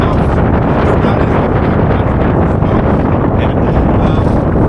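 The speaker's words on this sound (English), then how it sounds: "Here comes another gust" Strong wind gusts buffet the microphone aboard a Com-Pac 16 sailboat under sail, a loud, continuous roaring rush with no pause.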